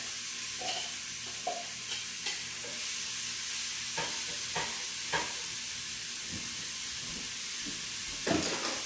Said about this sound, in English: Popping the onions into the warm pan here.